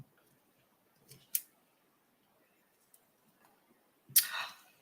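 Scissors trim paper near the edge of a journal page, two short crisp snips, one early and one near the end, in an otherwise quiet room.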